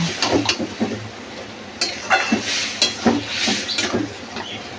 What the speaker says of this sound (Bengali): ডালগুলো ভালো করে মিক্স করে নেব।